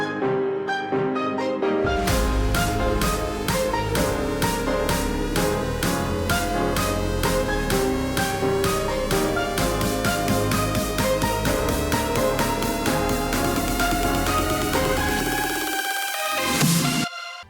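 Progressive house EDM build-up produced in FL Studio: a steady, loud four-on-the-floor pulse of repeated chords and synth hits that quickens in rhythm and rises in intensity, ending in a brief sweeping riser before cutting out.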